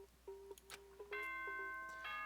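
A bright electronic ding-dong chime from the Danganronpa video game rings out in a few sustained melodic tones over soft clicking, clear and close with no talking.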